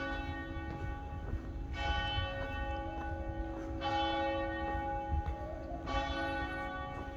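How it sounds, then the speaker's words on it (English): A church bell in Jerusalem tolls slowly at 8:30 in the morning, struck about every two seconds with long ringing overtones, over a steady low background rumble. "Can you hear the bell?"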